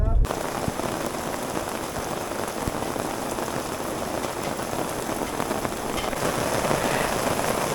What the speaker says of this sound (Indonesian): Hujan, jadi hujan-hujanan nih.